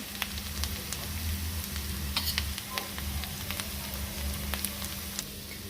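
Fresh grated coconut sautéing in a pan, a soft continuous sizzle with scattered crackles and light stirring scrapes, fairly quiet over a low steady hum, no voices.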